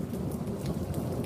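Thunderstorm with steady heavy rain and rolling thunder, a dense continuous low rumble and hiss at moderate level with no speech.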